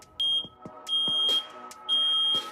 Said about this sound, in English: all of a sudden you hear this chirp, chirp, and it just keeps going, and you go, and it's your smoke alarm